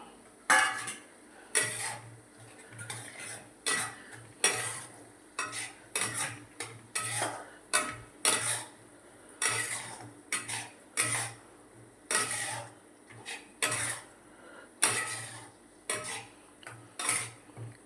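Cashews being stirred with a spoon in a pan while cooking a cashew paneer curry, heard as a steady series of rhythmic metallic scrapes and clinks, close and moderately loud, with no talking.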